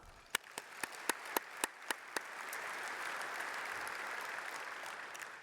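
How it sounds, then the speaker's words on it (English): An audience at a Nashville heroes breakfast gives itself a round of applause: several crisp early claps build into a broad, continuous roar of clapping that holds steady. "So give all of yourselves a round of applause."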